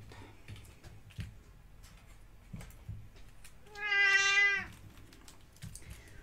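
A cat lets out a single clear, drawn-out meow close by, under soft ticking and faint rustling.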